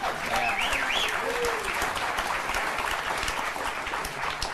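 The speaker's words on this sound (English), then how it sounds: "I'm beginning to believe knocking Hillary will get applause" A television studio audience applauds loudly and steadily throughout, with scattered cheers and voices mixed into the sustained clapping.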